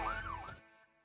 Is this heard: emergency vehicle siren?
yes